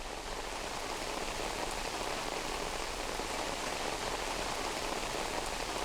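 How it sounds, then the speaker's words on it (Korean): Spring rain pours steadily onto a wide lotus pond, a dense, even hiss of countless drops striking water and leaves, constant and fairly close throughout with no voices. "드넓은 백년지도 봄비에 흠뻑 젖는다."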